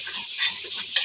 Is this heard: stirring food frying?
yes